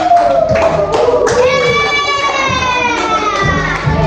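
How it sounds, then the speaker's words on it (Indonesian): Children in a classroom clap together in a brief burst, with a strong tonal voice or instrument-like sound and some chatter riding over the clapping. "Kita kasih tepuk tangan dulu."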